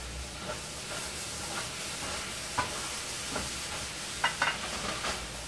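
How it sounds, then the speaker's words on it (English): Red beans bubble at a steady simmer in a pot on the stove, with soft pops and occasional gurgles over a constant hiss, no voices. "The beans are now getting ready. They just starting to boil a little bit."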